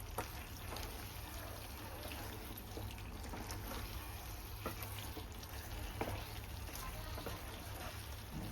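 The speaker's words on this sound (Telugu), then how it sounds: "ఇప్పుడు కొంచెం బాగా కలుపుకోవాలి చికెన్ని, సో దట్ అన్ని గరం మసాలా అవన్నీ ముక్కకి బాగా పట్టేలాగా." Chicken pieces coated in salt and garam masala sizzle softly in a pan while being stirred, giving a quiet, even hiss with occasional light scraping clicks throughout.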